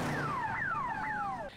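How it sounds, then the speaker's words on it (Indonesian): Car alarm blaring on Glenn's car, a loud close wailing siren with repeated falling sweeps, each tone gliding down before jumping back up, cutting off near the end. "Dale menyuruh Glenn untuk segera mematikan alarm mobilnya tersebut"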